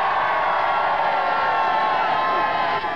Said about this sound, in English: Give a round of applause to Alan!